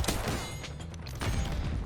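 Rapid CX-9 submachine gun fire in the video game Black Ops 6, a dense burst of sharp close shots with a heavy low thump, then a short pause before another burst.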